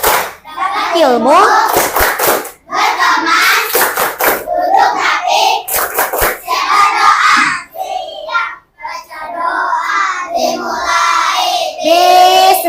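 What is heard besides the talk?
class doing a clapping routine before going home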